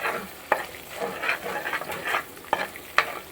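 Goat liver curry being stirred in a pan as it cooks down and dries, a steady sizzle broken by a few sharp scrapes and clinks of the spoon against the pan, close and fairly loud with no talking.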